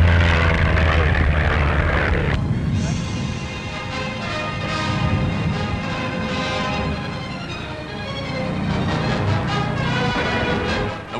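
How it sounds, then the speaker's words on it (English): Propeller aircraft racing in the King's Cup air race, a loud droning engine roar with a shifting pitch as planes pass, continuous and close on an old recording. "Princess Margaret's entry passed plane after plane, but it couldn't quite catch Mr. Day's Miles"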